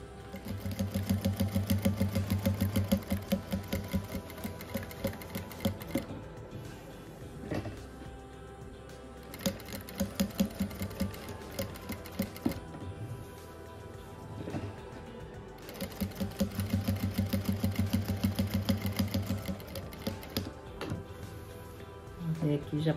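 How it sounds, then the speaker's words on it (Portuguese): A sewing machine runs colored thread around flower petals on a handmade rug in steady, fast bursts of stitching separated by short pauses, with some talk alongside. "Agora eu vou passar uma costura todas as pétalas aqui, daí com o fio dessa cor aqui"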